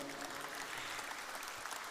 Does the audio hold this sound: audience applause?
yes